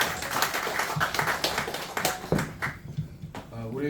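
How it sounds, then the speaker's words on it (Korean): An audience claps at a Korean constitution-defense group's inauguration ceremony, a scattered round of hand claps mixed with talking voices. "한 박수 주시겠습니까, 여러분들?"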